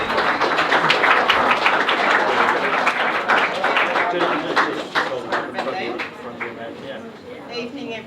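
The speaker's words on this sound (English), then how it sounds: "So a round of applause for Margaret" A room of guests claps for Margaret, the author's mother, as she is welcomed to speak at a book launch for a running and sports physiotherapy book; dense applause fills the first half and fades toward the end with some crowd chatter.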